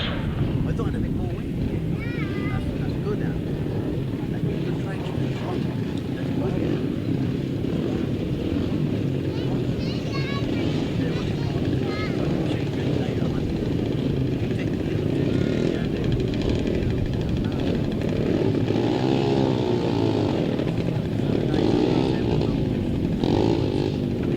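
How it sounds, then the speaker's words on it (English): Solo grasstrack motorcycles with 250cc air-cooled engines race at an outdoor meeting, their engines droning and revving steadily throughout, with a public-address voice talking over the noise. "So this is the 250cc air-cooled class now."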